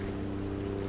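A boat travels on the sea near Skull Island in Vietnam, giving a steady, unbroken engine drone with soft wind and water wash behind it and no talking.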